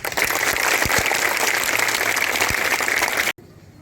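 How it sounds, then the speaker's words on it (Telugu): Schoolchildren clap together at a government school gathering, a dense, steady burst of applause that fills the space loudly and then cuts off abruptly near the end. "సంతోషంగా ఉన్న వాళ్ళందరూ క్లాప్స్ కొట్టాలి."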